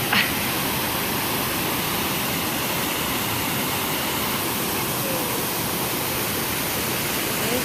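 A waterfall at Homeplace Recreational Park roars in a steady, dense hiss that fills the whole stretch, loud and unbroken, with no voices.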